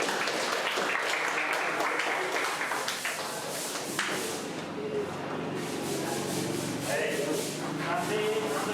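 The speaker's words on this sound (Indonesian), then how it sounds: "tepuk tangan dulu untuk kelompok 2" Classroom students applauding a presenting group, a continuous fairly soft clatter of many hands with murmured voices underneath.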